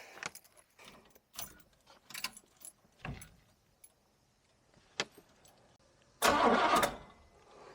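A barn-find 1970 Oldsmobile: keys jangle and rattle in the ignition for several seconds, then the engine cranks and catches in a loud, brief burst near the end.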